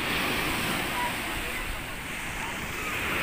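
Waves wash onto a clean, uncrowded beach in a steady, loud roar of surf mixed with wind, unbroken throughout and with no talk.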